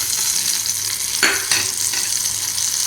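Curd rice being stirred in a pan as the tempering is mixed through with the stove off. It sounds like a steady close hiss with soft scraping and a couple of sharper scrapes midway, and no voices.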